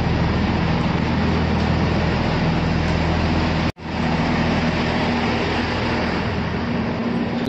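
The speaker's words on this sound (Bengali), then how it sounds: "এই যে ট্রেনটা আসছে সেটাই আমাদের ট্রেন," A small two-coach train in the UK, on the route to Windsor, gives off a loud, steady rumble and rush of rail noise that cuts out briefly midway, then carries on. No voices.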